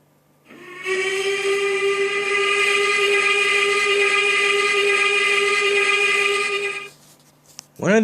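A Y6B steam locomotive whistle in the train simulator Trainz sounds one long, loud, steady chime blast of about six seconds, then cuts off, with a brief voice at the very end.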